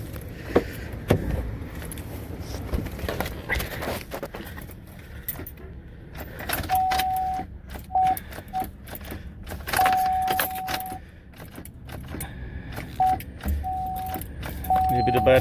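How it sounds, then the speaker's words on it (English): Keys jangle and an ignition cranks on a 2009 Cadillac DTS with an intermittent starting fault, close by inside the car, with chime tones beeping intermittently and a person talking over it. "Let me start it up with the keys."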